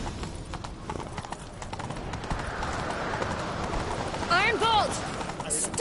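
Horse hooves gallop in steady clip-clop rhythm in The Witcher 3: Wild Hunt, with game music and character voices over the top and a brief melodic swell near the end.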